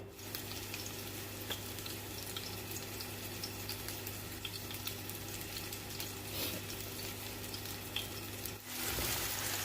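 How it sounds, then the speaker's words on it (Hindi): Chapli kababs fry in oil in a frying pan, producing a soft, steady sizzle with faint crackles and a low background hum, and a brief clatter near the end. "ये हमने इसमें डाल दिए हैं फ्राई पैन में।"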